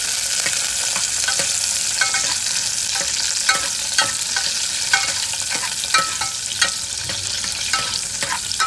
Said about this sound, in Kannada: ಬೆಳ್ಳುಳ್ಳಿ ಶುಂಠಿ ಫ್ರೈ ಮಾಡ್ತಾರೆ. ತದನಂತರ ಮೆಣಸಿನ್ಕಾಯಿ, ತದನಂತರ ಪಂಚ ಸ್ವಲ್ಪ ಫ್ರೈ ಮಾಡಬೇಕು